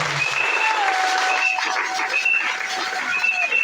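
A church congregation applauds together in a dense, steady patter of clapping that holds at an even level throughout, with a faint tone sustaining underneath.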